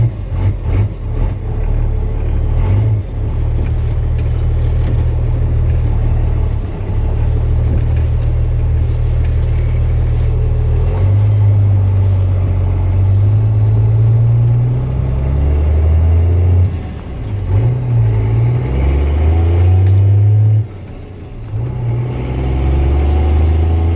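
Car fitted with a new exhaust and hood stack accelerating through the gears on a road drive, loud deep engine drone rising in pitch with each gear, dropping at shifts, heard from inside the car.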